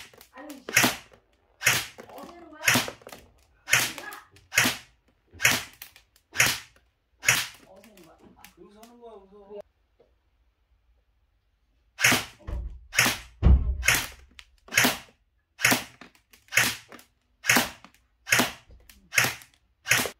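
An Arcturus AK05 airsoft AK fires single shots on a 10 m range: sharp, regularly spaced cracks, then a short pause with a brief voice, silence, and another run of evenly timed shots.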